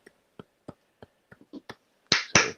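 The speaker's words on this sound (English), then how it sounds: "If you like weed, clap your hands." Sparse, isolated hand claps from an audience at a 2020 open panel event, about eight scattered single claps in a quiet room, ending in two louder, fuller claps close together.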